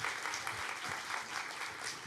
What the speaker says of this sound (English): your applause says everything